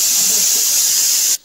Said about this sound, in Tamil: இப்போ குக்கர் போட்டு விசில் போட்டுக்கலாம்